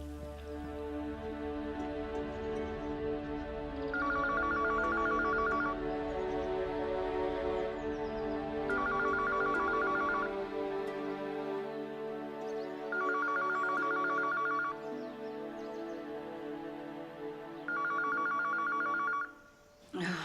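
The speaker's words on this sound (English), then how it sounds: "Stop that phone from ringing." A telephone rings indoors at home in four loud, close bursts of bright electronic ringing separated by short pauses.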